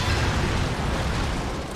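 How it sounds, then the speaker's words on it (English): Dense, continuous booming rumble of explosions in the video game Hyrule Warriors: Age of Calamity during a big blight battle, a steady loud wash of blasts with no clear gaps and no talking. "look at all those explosions right off screen"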